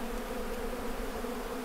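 Honeybees in a robbing frenzy swarm around beehives, producing a dense, steady, droning buzz of many insects at once, continuous and fairly close, with no voices.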